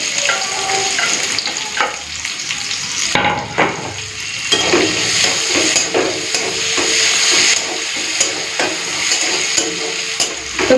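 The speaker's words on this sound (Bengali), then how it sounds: "তো এই তেলের মধ্যে দিয়ে দিচ্ছি পেঁয়াজ কুচি।" Chopped onion dropped into hot oil, already used for frying prawns, bursts into a loud crackling sizzle, with repeated spatula scrapes and knocks against the pan, close up and continuous, no speech.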